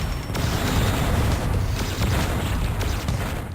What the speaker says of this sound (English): I fire off 4 lasers.